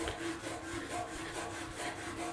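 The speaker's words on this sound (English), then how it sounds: "let me kind of sand it a little, or use this 4/0 steel wool" Fine 4/0 steel wool rubbed over a rusty Chevy C10 truck bumper, a soft, steady scratchy scrubbing in repeated back-and-forth strokes, close and fairly quiet.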